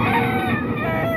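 Chickens and roosters for sale at the Baliwag tiangge market squawk and crow together in a dense, overlapping chorus, close and loud.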